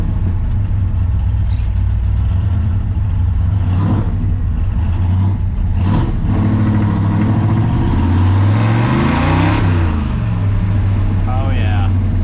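A Ford F100 pickup with a carburetor and a single-point setup slows to a stop, its engine droning loud and close and easing down in pitch while someone talks over it.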